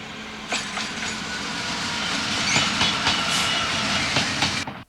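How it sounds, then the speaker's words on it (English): An HST passenger train runs south past a junction, giving a steady, fairly loud rush of wheels and rolling noise with faint clickety-clack beats, heard alone for about five seconds. "The HST set runs south and in the distance passes by Bridge Junction."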